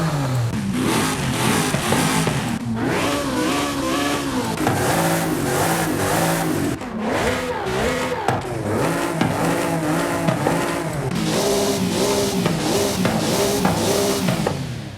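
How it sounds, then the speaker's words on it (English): A Noble M400 with swapped engines revving in Forza Horizon 5, loud continuous engine roar rising and falling through repeated throttle blips with gear-like pitch sweeps, layered over game music for the whole stretch. "Let's rev all of them up and see what they sound like."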